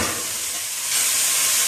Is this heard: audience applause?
no